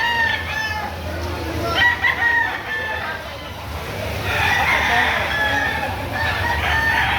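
A rooster, a banded bull stag over a year old, crows twice at moderate distance, with a long drawn-out call near the end, over steady background noise and faint clucking from other fowl.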